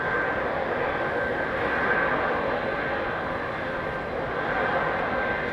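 A jet aircraft climbs out after takeoff at London Heathrow, a broad, steady roar heard from a distance, holding at an even level with no voices.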